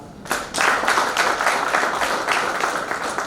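A university graduation farewell party audience claps for a graduate of the University of Juba, a dense, steady round of applause filling the room on its own for a few seconds.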